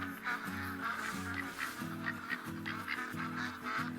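Ducks in TheHunter: Call of the Wild duck hunt in Layton honk and quack in a steady chorus of repeated calls from a flock, layered and continuous throughout with no talk.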